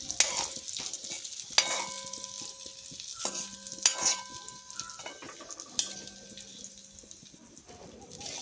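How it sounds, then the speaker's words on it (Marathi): Dry coconut roasts in a pan for stuffed brinjal, with soft scraping stir strokes and faint sizzling, plus distant bird calls and steady tonal hums in a quiet kitchen. "खोबरं लाल तांबूस होईपर्यंत भाजून घ्यायचे."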